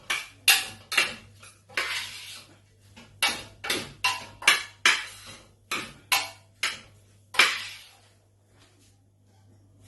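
A spatula repeatedly scrapes and clatters against a pan while egg fry is mixed with spring onion, about a dozen sharp rhythmic strokes close by, then quieter near the end.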